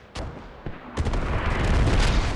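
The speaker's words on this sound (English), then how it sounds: "Oh, and we see that heavy mortar barrage." A heavy mortar barrage hits during a Squad match: a few sharp distant thumps are followed by a loud, sustained rolling rumble of blasts that builds and holds.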